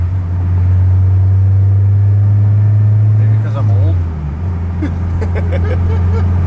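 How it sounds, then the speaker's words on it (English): Car with a Yonaka catback exhaust and K-Tune header accelerating, a loud, deep droning exhaust rumble from inside the cabin that dips briefly and continues, with people talking over it. "Let's just hear normal driving, like when we're just accelerating. Yeah, it's loud."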